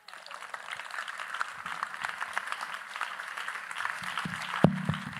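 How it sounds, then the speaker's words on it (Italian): A large crowd applauds at an outdoor evening stage show in Tortolì, a steady dense wash of clapping that holds for several seconds, with one louder thump near the end. "Un applauso."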